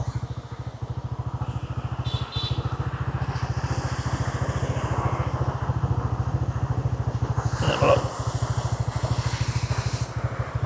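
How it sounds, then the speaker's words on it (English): A motorbike engine idles steadily beside a roadside waterfall in Vietnam with a rapid, even putter throughout, while a voice briefly speaks over it. "Turn the engine off for a second."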